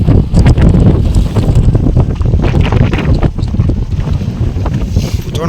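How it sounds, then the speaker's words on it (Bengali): Strong wind and waves churn around a fishing boat on a Sundarbans river, a loud, constant roar of gusts buffeting the microphone with rushing water beneath and no talk. "প্রচন্ড হাওয়া ঢেউ সাথে।"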